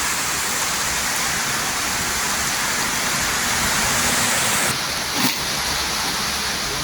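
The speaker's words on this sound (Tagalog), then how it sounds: "ang lakas ng ulan oh" Dense, heavy rain pours down in a constant hiss, broken by a brief thump near the end.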